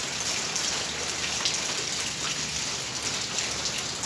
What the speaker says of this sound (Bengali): বাইরের টালিগুলো লাগানো হয়েছে পানি পড়তেছে বৃষ্টির পানি